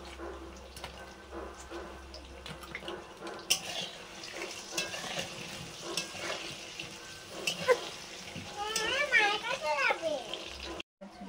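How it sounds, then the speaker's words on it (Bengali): Potatoes fry in a pan for a chicken curry, with a soft sizzle and intermittent utensil clinks and stirring. Voices and household sounds come and go in the background, and a brief sharp squeal appears near the end. "আলুটা ভাজছি।"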